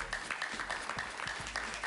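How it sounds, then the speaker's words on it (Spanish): Audience applause for Enrique Capriles in a studio interview setting, a steady, moderately quiet patter of many hands clapping throughout. "Un aplauso para Enrique Capriles."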